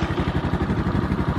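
The starter of a CSC SG250 cafe racer motorcycle cranks the engine, a fast, even mechanical churning pulse that is loud and close and continues without the engine catching.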